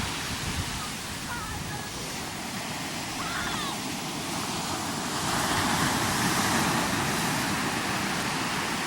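Ocean surf breaks on a beach in a broad, continuous wash of noise that swells louder partway through, with wind buffeting nearby and a voice faintly audible beneath it.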